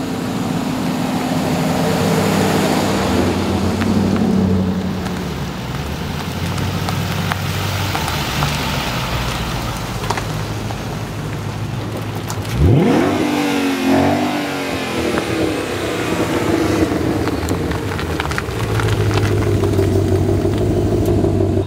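A rig vehicle pulls in and drives past outdoors, its engine rumble and tire noise steady and loud, with a sweeping pass-by near the middle and no talk.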